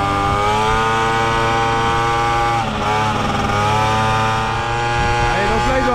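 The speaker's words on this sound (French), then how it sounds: "j'essaye de pas trop faire forcer le moteur" A moped engine labours steadily uphill on a mountain pass road in the French Alps, a close, loud, droning buzz with shifting pitch as it climbs.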